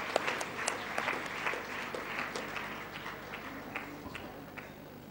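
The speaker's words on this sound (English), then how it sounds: "Can we have a big round of applause for her?" An audience at a women's awards and recognition event gives a round of applause. Many hands clap at once in a dense, moderately distant patter that fades slightly toward the end.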